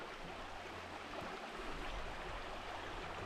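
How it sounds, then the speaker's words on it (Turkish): Steady broadband rush of flowing water, a stream running continuously close by with no other sounds standing out. "Böyle güzel bir dere akıyor."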